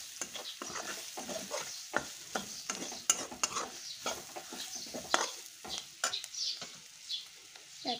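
Chicken pieces with masala, cumin, chilli powder and coriander are stir-fried in a pan on a gas stove. A spatula scrapes and taps in an irregular rhythm over a soft, steady sizzle.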